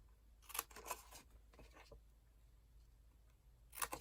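Scissors snip through paper in a quiet room, a few crisp cuts in two short clusters, close and clear against near silence.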